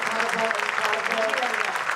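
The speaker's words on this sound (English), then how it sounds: "Can we give a huge round of applause for our panelists?" A panel-discussion audience applauds the panelists with steady, dense clapping throughout, mixed with crowd murmur and voices.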